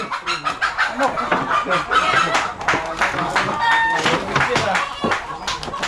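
Chickens cluck and squawk busily all around at close range, while people talk over the flock.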